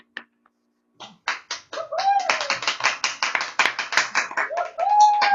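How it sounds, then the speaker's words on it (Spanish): A small audience at a university biotechnology thesis defense claps, starting with a few scattered claps that quickly build into brisk, close applause, with a voice calling out over it. "Pueden aplaudir"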